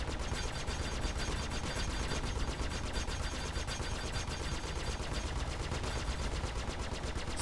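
Weapons in a video game firing nonstop in a rapid, even automatic rhythm, loud and close, a steady rattle of shots with no pauses.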